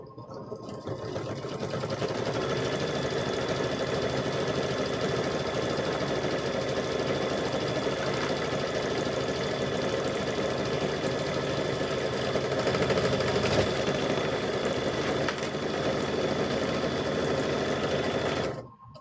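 A sewing machine stitches a quilted handbag, a close, continuous mechanical whir with a rapid rhythmic chatter holding steady throughout before cutting off at the end.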